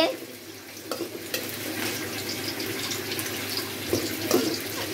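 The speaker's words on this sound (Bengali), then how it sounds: "একটু পেঁয়াজ দিয়ে দেওয়া হচ্ছে। পেঁয়াজটা ভাজা হোক" Onions are dropped into hot oil in a pan on a stove, giving a continuous bright frying hiss with a few crackling bursts, heard from a short distance and without speech.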